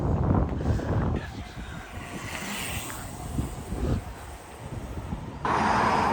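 Wind blowing on the British coast near Bangor, gusty buffeting across the microphone in uneven surges, loudest at the start and again at the end.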